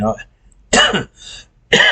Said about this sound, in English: I didn't mean to cough